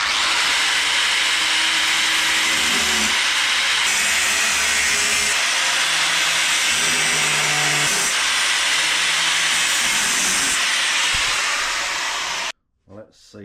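A power tool grinds and cuts through a weld on a steel mudguard bracket, a loud continuous harsh whine that runs close and unbroken for about twelve seconds before stopping abruptly.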